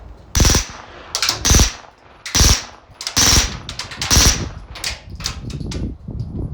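A B&T APC9 SQD-M 9mm pistol caliber carbine fires in quick, sharp bursts at a very high rate, several separate strings of shots with short pauses between them, loud and close.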